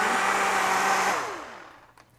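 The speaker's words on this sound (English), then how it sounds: "The reason I'm using a blender on this dressing in particular" Countertop blender whirring through a dressing made with okara, a loud steady motor drone close by that winds down and fades over about a second, no talking.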